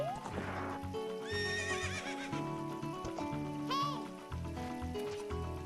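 Horse in Legend of Zelda: Ocarina of Time whinnying over a looping game soundtrack, with a rising neigh early on and another mid-way, while galloping clip-clop hoofbeats run steadily underneath.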